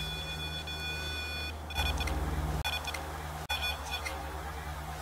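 An EMF meter beeps during a nighttime ghost hunt on Lovers Lane, steady electronic tones repeating close by with a few brief cuts, over a constant low hum.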